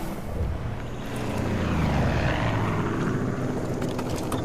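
A helicopter in Far Cry 5 gives off a loud, dense engine and rotor roar that swells slightly in the middle and stays continuous for the full few seconds, with no talking over it.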